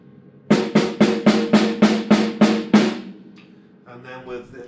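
A snare drum with the snares engaged is struck eight times in a quick, even rhythm, each crisp crack carrying a bright rattling buzz. The hits are close and loud, then fade into a brief low murmur.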